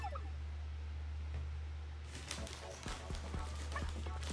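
Horse hooves clip-clop in the video game Miitopia, a quiet, evenly paced series of hoof taps that starts partway through over a steady low background hum.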